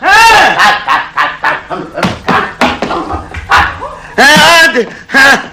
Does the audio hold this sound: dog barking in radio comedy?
yes